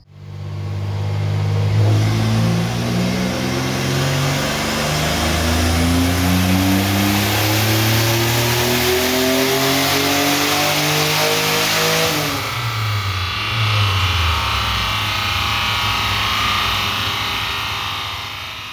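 A turbocharged Nissan Z31 engine revs hard on a dyno at a low 12 psi boost, one loud sustained pull climbing steadily in pitch before cutting off and winding down, close and alone without talk.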